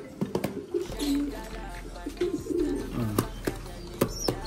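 Domestic pigeons cooing and fluttering close by as they are fed, with soft coos, brief wing flaps and scattered pecking or clicking sounds over a quiet background.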